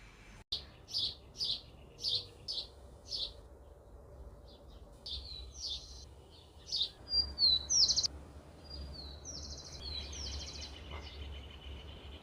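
Several small birds chirp in short repeated bursts, then trill and whistle in higher varied phrases, moderately near over a low outdoor rumble, in a spot where birds roost at night.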